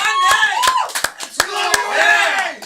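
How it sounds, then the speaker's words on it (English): A small audience at a live show gives scattered applause, a few sharp individual claps punctuating cheering and shouting voices close by. "Let's have a big round of applause for this guy."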